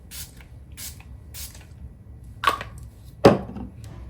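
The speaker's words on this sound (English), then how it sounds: "Now we're going to do a full face spray." Setting spray misted over the whole face during a natural everyday makeup routine: two or three short, soft hissing bursts with pauses between, close up and quiet, with faint handling noise around them.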